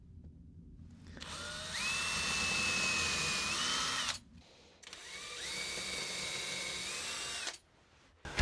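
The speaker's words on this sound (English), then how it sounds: "So Gonna get a couple of those drilled before doing anything else." A power drill boring screw holes into a WW2-era fire axe runs in two bursts of whining motor noise, each a few seconds long, with a brief pause between, close up and with no talk.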